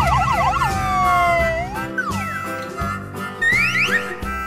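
Toy ambulance siren wailing alone for several seconds, a warbling electronic tone that sweeps up and down and switches between siren patterns, close and fairly loud.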